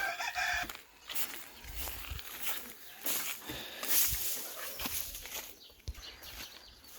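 Hens cluck around a coop, with a rooster crowing among them and some rustling in the background.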